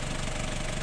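A Mazda Bongo engine idles while warming up to open its thermostat, a steady close rumble with a fine rhythmic knock running through the whole short stretch.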